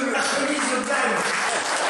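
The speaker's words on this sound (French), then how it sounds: "je vous demanderai de faire des applaudissements fournis pour monsieur la chemise blanche" A crowd at a general assembly in Sauviat-sur-Vige gives the mayor a dense, sustained round of applause, loud and continuous throughout.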